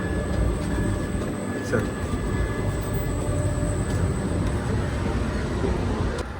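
Steady, loud rolling rumble and clatter inside a moving passenger train near the AC coaches, continuous throughout with faint higher rattles, and a voice briefly speaking over it.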